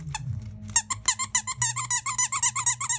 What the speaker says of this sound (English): Has a really nice squeaky.